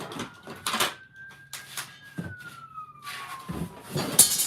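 Police car siren passing outside a house, a long descending wail heard faintly from a distance, with intermittent close voices and clatter in the room over it.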